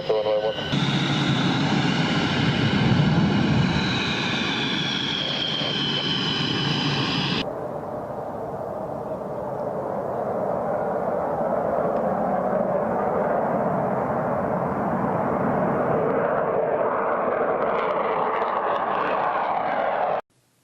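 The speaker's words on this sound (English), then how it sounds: "of a jet engine taking off is 120 decibels" Jet aircraft engine taking off on a runway at an airbase, a loud continuous roar with a strong whine at first, then a broader steady rush that holds to the end.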